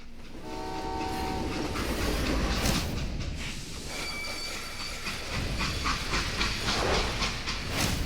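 Train in the video game Call of Juarez, a loud steady rumble of rolling rail cars with hissing steam and a sustained horn blast near the start, no talk.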